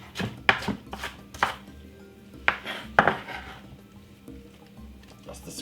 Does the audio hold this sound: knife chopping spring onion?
yes